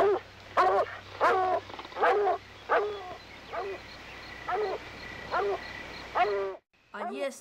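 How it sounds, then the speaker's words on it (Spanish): A dog barks repeatedly in short bursts at a steady pace, loud and close, in a hunt for a raccoon up a tree in the woods, with steady background noise. "¡Cállese, perro tonto!"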